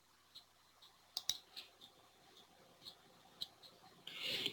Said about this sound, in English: once I click OK